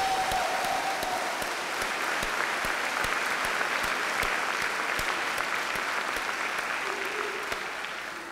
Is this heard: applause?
yes